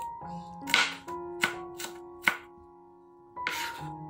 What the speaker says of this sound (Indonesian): Bawang merah dan bawang putihnya saya rajang-rajang aja ya teman-teman, biar lebih cepat